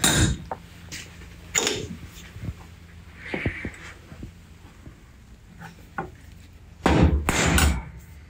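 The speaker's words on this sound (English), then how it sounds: "I'll center punch it" A center punch is struck into a metal orthopedic knee joint to mark the spot for a ball catch. Several sharp, separate metallic taps ring out, with the loudest hits near the start and a cluster near the end.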